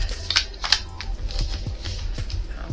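A deck of cards is shuffled by hand, with quick crisp riffling bursts and soft shuffling clicks in uneven bursts, close and moderately loud, with no talk.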